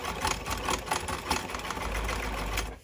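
A sewing machine runs a zigzag stitch over the edge of fabric while sewing boxers. It makes a steady, close whirring rattle for nearly three seconds and then stops abruptly.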